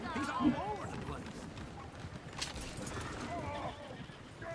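Horses neigh and whinny with hooves clip-clopping in Red Dead Redemption 2, several loud whinnies near the start and again later, over a busy game soundscape with voices talking throughout.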